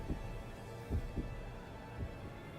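A faint heartbeat effect from the horror video game Spirit Hunter: Death Mark 2 gives a few soft, low thumps, some in lub-dub pairs, over a steady background hum.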